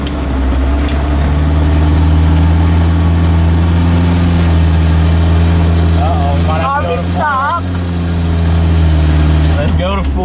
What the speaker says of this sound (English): barely giving it the gas